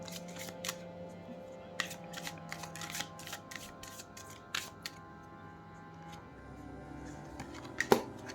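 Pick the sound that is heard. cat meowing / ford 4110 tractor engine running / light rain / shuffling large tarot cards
shuffling large tarot cards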